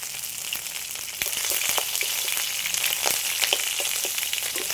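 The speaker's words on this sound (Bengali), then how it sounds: "একটা লঙ্কা কেটে তেলের মধ্যে দিয়ে দিচ্ছি একটা তেজপাতা অল্প করে সরষে" Sliced chili, a bay leaf and mustard seeds fry in hot oil with a steady, dense sizzle that swells louder after a moment, crackling close up and continuous with no talking.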